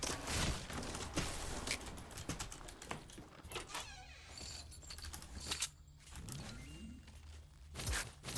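Enemy gunfire in the shooter game Bullseye cracks out in sharp, irregular shots and short clusters, with quieter mechanical clicks between them.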